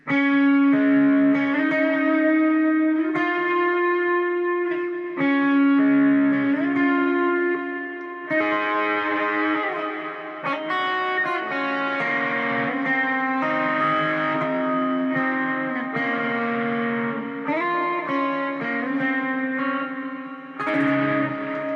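Electric guitar runs through the whole chorus of a song, with distortion, reverb and echo effects, strumming a steady progression of ringing chords close and loud for about twenty seconds, without any speech.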